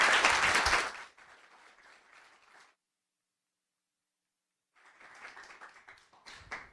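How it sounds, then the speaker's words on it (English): Audience applause at a journalism conference session: a loud burst of clapping that fades to quieter scattered claps, then a silent gap before clapping swells again. "So on that note, we can applaud the recognition and appreciation."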